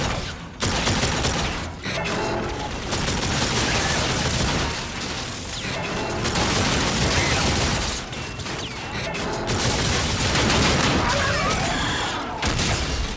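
Repeated shotgun blasts in a first-person shooter game, loud and dense, with booms and mechanical clatter filling the whole stretch almost without pause.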